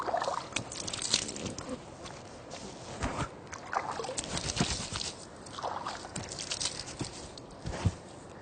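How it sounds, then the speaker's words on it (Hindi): Water splashing and sloshing in quick irregular bursts, close by, like hands scooping water repeatedly while washing the face, with no talking. "पूरा चेहरा आपको 3 बार धोना है"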